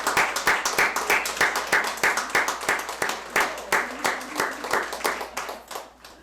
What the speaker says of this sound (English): Let's give Trinity Health a big round of applause